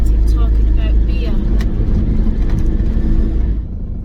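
A car is driven around a housing estate, with a loud, steady engine drone and road rumble heard from inside, the sound easing off near the end while people talk over it.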